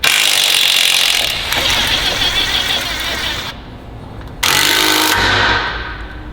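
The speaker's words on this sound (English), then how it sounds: "we're going to take the bolt out" A 10 millimeter bolt comes out of a 2017-or-later Ford Super Duty during a 6-inch lift kit install, with loud, harsh mechanical rattling from a ratchet or power tool that runs in bursts, pauses briefly and starts again.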